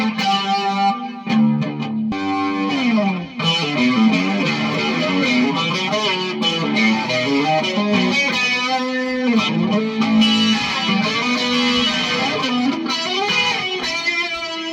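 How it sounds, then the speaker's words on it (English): Baritone electric guitar with thick strings plays a twangy country-style passage through effects, a continuous run of plucked notes and chords, close and loud without talking. "But if you want your classical twangy country sound,"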